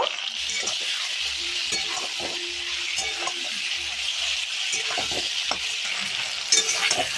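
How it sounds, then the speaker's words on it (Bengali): Pieces of kohlrabi sizzle in a hot pan while a spatula scrapes and clinks against it in repeated stirring strokes, close and clear. "ভালো করে ভাজা হবে ওলকপিগুলো নুন হলুদ দিয়ে"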